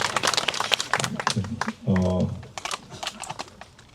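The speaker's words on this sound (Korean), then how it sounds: "네, 크게 박수 쳐주십시오." Applause from an audience at a second-anniversary memorial service for Kim Tae-wan, a run of sharp clapping under a voice that keeps talking and a steady sung or hummed tone partway through.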